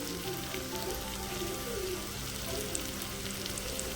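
Vadiyalu frying with tomato, salt and chilli in a pan give a steady, close sizzle with a broad crackling hiss that holds even throughout.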